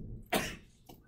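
One short, close sneeze bursts out abruptly and then trails off quickly, followed by a faint breathy tail.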